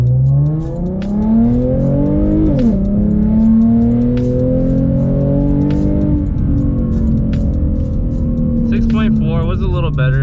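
A Ford Mustang 3.7L V6 with a straight-pipe, X-pipe, muffler-delete exhaust launches hard from a standstill to 60 mph. Its loud, raspy engine note climbs steadily through the gears for about ten seconds.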